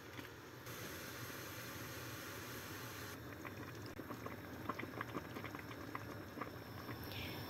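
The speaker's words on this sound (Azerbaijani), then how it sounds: "3 litr suya 2 xörək qaşığı duz, 1 xörək qaşığı bitki yağı əlavə edib makaronu qaynadırıq." A pot of salted water with a spoonful of vegetable oil boils pasta at a steady rolling bubble, continuous and moderately close, with faint popping throughout and no voices.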